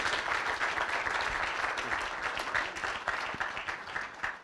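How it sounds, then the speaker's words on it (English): A crowd applauds steadily for several seconds, a dense wash of clapping at even strength that thins slightly toward the end. "Let's give him another big round of applause."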